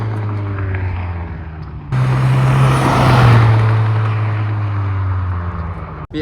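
A 10th-gen Honda Civic Si, 1.5-liter with catted downpipe and catback exhaust, idles with a steady drone, then its note jumps sharply and stays loud through a sustained rev before settling, ending in a brief click.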